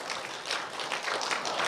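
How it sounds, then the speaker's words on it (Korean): A church congregation breaks into applause, a dense, steady wash of clapping from many hands that holds for the whole short stretch with no voices over it. "박수 좀 해줘봐 정말"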